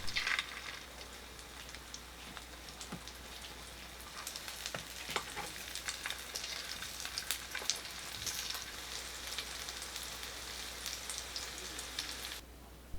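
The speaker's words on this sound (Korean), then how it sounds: "계란에 퐁당 넣어 앞뒤 노릇하게 구워내기" Pink sausage slices dipped in beaten egg fry in a pan with a steady, close crackling sizzle and scattered pops, continuous for the whole stretch with no talking.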